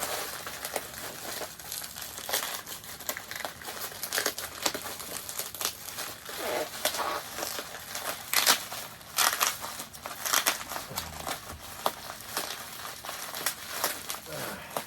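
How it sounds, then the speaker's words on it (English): Bubble wrap crinkles and crackles as it is pulled off a packaged comic book, with dense irregular rustling bursts and pops over about fifteen seconds, close by, while a person talks intermittently. "waste too much of your time taking the bubble wrap off"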